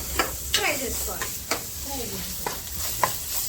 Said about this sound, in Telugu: ఆనియన్స్ గోల్డెన్ కలర్ వచ్చిన తర్వాత అల్లం పేస్ట్ వేసుకొని కొత్త పచ్చి వాసన పోయేదాకా ఫ్రై చేసుకోవాలి.